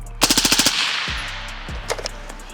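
A rifle fires a rapid burst of about seven shots through a 3D-printed suppressor, loud and close, then a few more quick shots after a short pause, with no talking.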